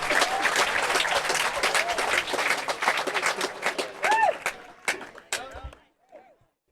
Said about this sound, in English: And the crowd goes wild for another great rally.